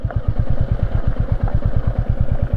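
A motorcycle engine chugs at low revs in a steady rapid thumping pulse, close and loud, with no talk, at a hilltop temple site inside a fort.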